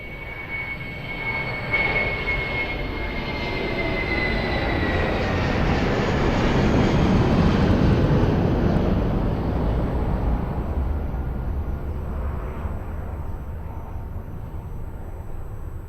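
A jet airplane at Lisbon Airport, lined up on runway 02, gives a steady, broadband engine roar that swells gradually and stays loud across the whole stretch, with a thin high whine on top.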